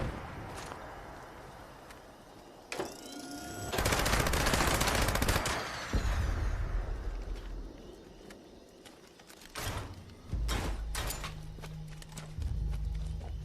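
Rapid bursts of automatic gunfire in Fallout 76, shooting at thrusters, come in loud clustered volleys separated by pauses, with heavy rumbling and scattered single shots amid game sound.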